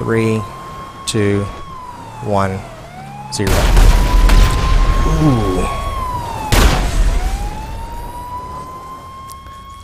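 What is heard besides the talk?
explosion in a video game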